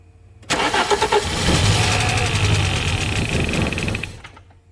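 An Audi coupé quattro engine cranks and catches, then runs loud and rough close by for about three and a half seconds before cutting out, with no talk over it.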